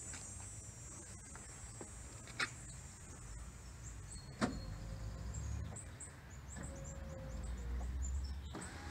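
The motor of a Fiamma F65 Eagle awning on a 2018 Pleasureway Plateau FL, its worm gear freshly repaired, retracts with a faint, thin electric whine and a few soft clicks and knocks.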